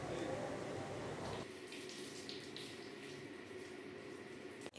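Water runs steadily in a bathroom while a child is bathed, a close continuous splashing rush that drops to a lighter flow partway through and cuts off at the end.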